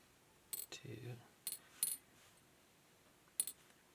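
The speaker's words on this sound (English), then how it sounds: "So let's go ahead and dump these pins out." Small metal pins from a Sargent Signature LFIC lock core tumble out in a few quick bright clinks and rattles, close up, with a brief low murmur between bursts and quiet gaps.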